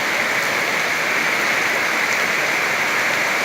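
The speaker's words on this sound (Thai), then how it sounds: "ฝนตกแรงมากครับ" Heavy summer rainstorm at 4 a.m. in Sung Noen, Korat, pouring steadily and loudly as a dense, unbroken hiss of rain with no pauses and no voices.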